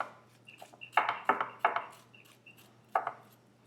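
A knife cuts and trims cucumbers on a board, giving several crisp, close chopping strokes. Some come in a quick run and others land alone after short pauses, over a faint steady hum.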